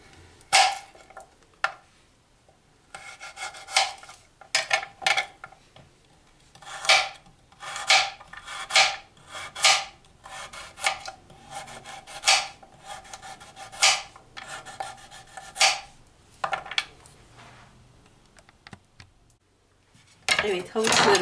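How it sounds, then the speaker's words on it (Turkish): Carrots being chopped with a knife on a board for an orange-flavoured olive-oil leek dish, a steady run of sharp, close, distinct chops with brief pauses between bursts. "Evet, havuçlarımı doğradım."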